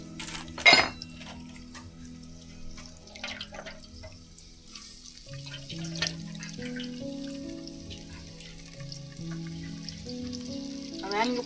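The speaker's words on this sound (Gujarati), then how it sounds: "શાક આપણે એમને જ વઘારી નાખવાનું છે" Soli and guar vegetables hit hot oil for tempering with a sudden loud burst of sizzle at the start. A softer, steady crackle follows, with clinks of utensils and sustained tonal sounds in the background.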